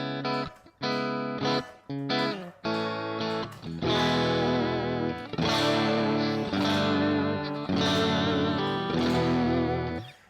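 Electric guitar runs through a Quad Cortex modelling a Marshall JTM45 head, first as short clipped chord stabs and then as longer ringing strummed chords, loud and close with no voices.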